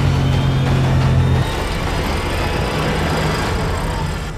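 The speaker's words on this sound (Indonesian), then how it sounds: "Suara tarikan mesin winch menjadi lagu kami siang itu." An off-road vehicle's winch hauls a stuck car out of swampy mud, a steady mechanical drone with a humming motor tone that drops after the first moment and carries on under engine rumble.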